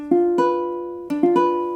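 Piano-like chord struck note by note from low to high, then the same rolled chord sounded again, as in an augmented-versus-diminished ear training quiz; clear sustained harmonic tones, close and moderately loud, no voices.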